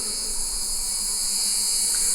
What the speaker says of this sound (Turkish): Arılar sakin